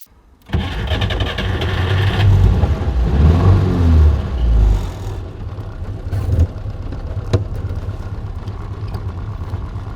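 A 1950s Peugeot 203 engine cranks and catches, then revs up loudly a couple of times before settling into a steady idle, close by.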